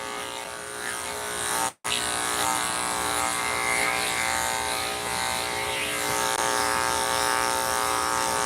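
An electric hair clipper buzzes steadily through a dog grooming session, a close, constant whine that cuts out for a moment near the start before resuming.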